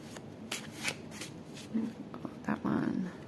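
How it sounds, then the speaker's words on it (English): A deck of tarot cards being shuffled and picked by hand, heard as short close riffles and papery flicks in uneven bursts, with soft handling noises between them. "These are tarot cards I'm choosing now."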